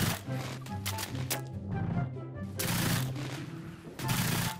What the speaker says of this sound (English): Oh, hello, machine gun.